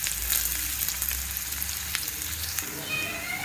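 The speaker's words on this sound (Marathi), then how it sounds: "तेल गरम झालेलं, कांदा टाकते।" Chopped onion fries in hot oil for Gavran-style mutton kharda, a steady, close hiss and sizzle that continues unbroken throughout.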